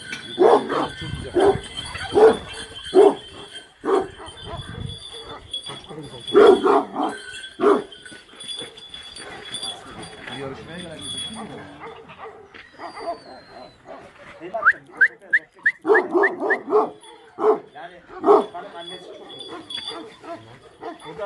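Several large Aksaray Malaklı dogs bark in bursts, loud and close, with yips and whimpers between, and voices talking in the background.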